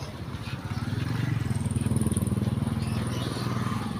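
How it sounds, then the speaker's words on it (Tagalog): A motorcycle engine putters steadily nearby, a low, rhythmic throb that stays fairly loud for several seconds as it passes, with faint background noise around it. "May motor."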